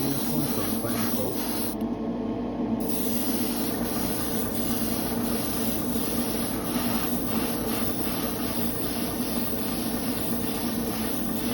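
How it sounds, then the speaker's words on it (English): An airbrush sprays thinned craft paint in a slower, heavier final coat, giving a continuous steady hiss with a compressor hum beneath and a brief pause early on. "Just run your airbrush over it a little bit slower for your heavier coat."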